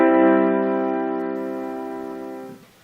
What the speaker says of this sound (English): It's going to use the G, the third note of the chord, in the bass as the lowest note, and it will sound like this.